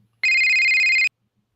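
A single loud electronic phone ring sounds for just under a second, a steady high-pitched trill alone against near silence.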